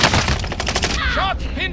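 Gunfire in Call of Duty: Modern Warfare crackles in dense, rapid bursts, with a player's voice talking over the shooting.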